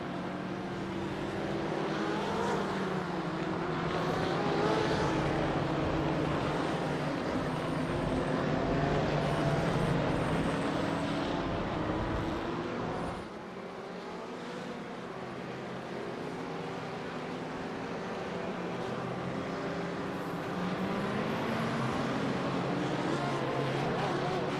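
Several race cars roll off the grid in a racing game at Daytona International Speedway at night. Their engines drone in a steady, layered rumble that dips briefly midway. A commentator talks over them throughout.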